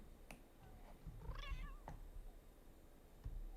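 A cat in The Sims 2 gives a single short rising-and-falling meow at close range, set against low game ambience with a few soft clicks around it.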